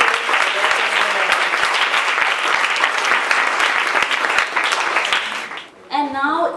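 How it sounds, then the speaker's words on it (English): Sustained applause from an audience at a youth debate and presentation event on safer communities, dense steady clapping that fades near the end, followed by a brief voice. "Wow, a round of applause."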